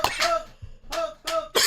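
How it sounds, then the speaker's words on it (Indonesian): A few harsh coughing bursts, close and fairly loud, spaced irregularly with short pauses between them and no speech. "Sampai batuk."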